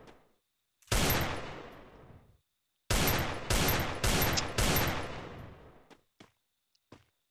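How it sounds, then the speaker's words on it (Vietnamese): Gunfire in the mobile shooter Free Fire: loud close bursts of rapid shots, one long volley, a pause, then several back-to-back bursts, followed by a few sparse single shots fading out. "Trời ơi, sao nó bắn hoài vậy?"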